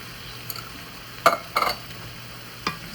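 Chicken and zucchini stirred together in a skillet, with a few sharp utensil scrapes and knocks over a low, steady sizzle, no voices.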